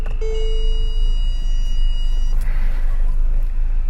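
Parking sensor chimes inside a Mercedes-Benz E550: a clear electronic tone sounds then stops, over a low steady engine rumble, followed by a softer shifting noise.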